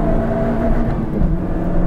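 A 212-horsepower Toyota Yaris GRMN with a Torsen limited-slip differential accelerates on a race track, its engine a loud, steady in-cabin drone that climbs slightly over a couple of seconds with no talking.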